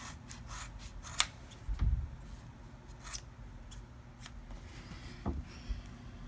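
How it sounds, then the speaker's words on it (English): Scissors cut through an old hair weave in a few crisp, close snips, one sharp cut standing out, with soft rustling of the hair between them and no talking. "So this is how much I cut off."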